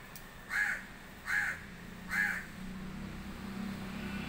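Morning crows give three separate, evenly spaced caws at moderate distance over a quiet outdoor background.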